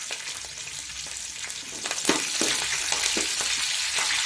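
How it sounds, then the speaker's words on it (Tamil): Green chillies and curry leaves are sautéed in oil after mustard seeds splutter, giving a close, busy sizzle with bursts of sharper crackling and spattering midway that stay loud to the end. "கடுகு நல்லா பொரிஞ்சு வந்த உடனே பச்சை மிளகாய் கருவேப்பிலை சேர்த்து நல்லா வதக்கலாம்"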